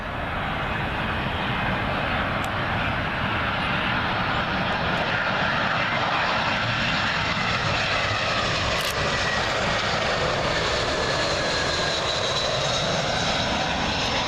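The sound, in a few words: British Airways A319 from Brussels arriving at Heathrow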